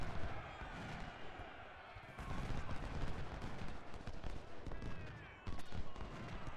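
Musket volleys and scattered gunfire from a Civil War battle in the strategy game Ultimate General: Civil War, a dense continuous crackle of shots at the Battle of Chancellorsville, with a louder burst near the end.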